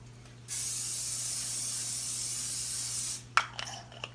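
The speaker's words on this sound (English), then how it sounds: "Get it heating up and put a little" A single long hiss of aerosol cooking spray into a skillet lasts about three seconds, close and steady, followed by a few clanks of the pan.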